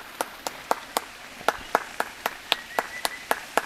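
A person claps their hands in a slow, steady rhythm beside an arowana fish pond, about a dozen crisp single claps at even intervals, sounding alone with no voices.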